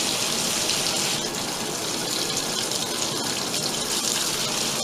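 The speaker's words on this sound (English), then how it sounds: "Watch how the water pours." Water gushes steadily into a 2004 Kenmore (Whirlpool) 80 Series washer, a loud, continuous hiss of filling with no pauses, close and alone.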